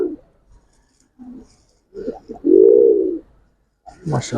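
A Giribaz pigeon gives a soft, low cooing call, with a few short murmurs followed by one longer sustained coo, close and clear. Someone speaks briefly at the end.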